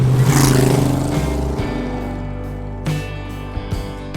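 A 1930 Ford Model A roadster hot rod drives through hilly country, its old engine giving a loud, steady low rumble that rises and dips in pitch, with a few sharp bumps toward the end.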